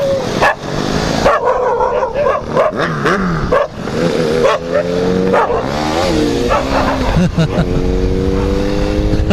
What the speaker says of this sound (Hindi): सुपर बाइक देखेगा तो भौंकना चालू